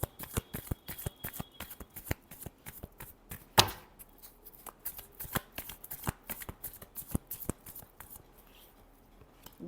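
Tarot cards being shuffled by hand, a quick close run of crisp riffling flicks and soft slaps, with one sharper snap midway, fairly quiet and without talk.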